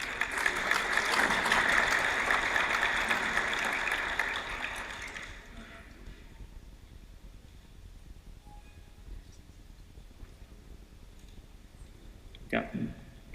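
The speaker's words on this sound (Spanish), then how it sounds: "lo vamos a recibir con un fuerte aplauso, por favor, a Diego León" A conference audience of Guatemalan entrepreneurs gives a loud, sustained round of applause to welcome a speaker. The clapping lasts about five seconds, then fades into a quiet hall with a brief voice and a short bump near the end.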